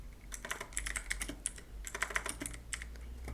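Quiet, close typing on a computer keyboard: a quick, uneven run of light clicking keystrokes with no talking.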